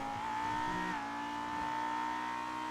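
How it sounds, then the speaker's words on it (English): A car's exhaust note in the NoPixel GTA roleplay game, holding a steady high drone with a rise and a dip around one second, close and alone with no talking. "the exhaust note on this is so nice"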